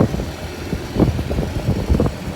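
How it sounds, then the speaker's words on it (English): A steady low boat engine rumble purrs along continuously on the water, with a throbbing, slightly uneven pulse at moderate loudness throughout. "Engines are just a purring."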